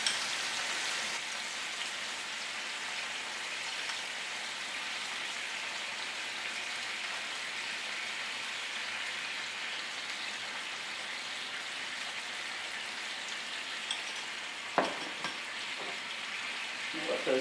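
Scallops sizzle in a hot pan with a lime juice, ginger, garlic and sugar mixture, a steady broadband crackle holding for the whole stretch with a few brief clinks near the end and no talk.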